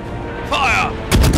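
Cannon fire in a naval video game, a short voiced call followed by a sharp, loud blast at the end.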